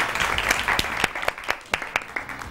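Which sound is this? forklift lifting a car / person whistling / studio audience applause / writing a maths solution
studio audience applause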